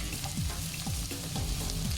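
Tomato paste, whole black peppercorns and paprika powder frying over low heat in a pan, a close, even sizzle with soft repeated scraping or stirring strokes; no talking.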